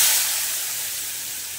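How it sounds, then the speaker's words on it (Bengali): Chopped onion dropped into hot oil with whole garam masala, cinnamon, cardamom and cloves, setting off a loud, bright hiss that starts strong and slowly eases while staying continuous. "দিয়ে দেবো পেঁয়াজ কুচি"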